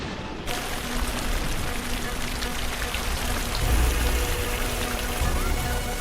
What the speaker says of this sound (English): Dumping billions of liters of rain on the parched ground below.